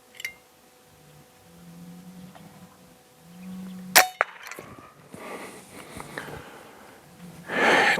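A .22 AirForce Condor air rifle fires a slug at a pigeon, giving one sharp, loud pop around the middle of the stretch, with faint rustling and outdoor noise before and after.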